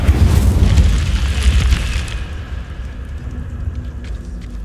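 An Incendio fire spell cast in Hogwarts Legacy, a loud deep whooshing burst of flame that roars for about two seconds and then dies away into a quieter hiss.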